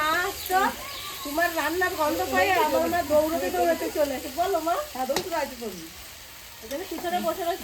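Desi chicken curry sautéing in a pan gives a steady sizzle and frying hiss, with occasional stirring scrapes, heard under near continuous talk from a woman.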